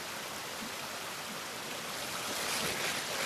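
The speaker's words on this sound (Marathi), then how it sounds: "हे बघा, अजूनही धबधबा." A waterfall in the hills near the Shree Nageshwar temple at Choravane, Ratnagiri, sends up a steady broadband rush that swells slightly toward the end, with no voices.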